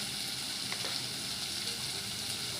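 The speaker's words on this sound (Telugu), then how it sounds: "తర్వాత ఈ టమాటా కోసి పెట్టుకుని టమాటాలు వేసుకోవాలండి." Chopped tomatoes sizzle in a pan of frying fish curry, a soft, steady, continuous crackle heard close up with no talking.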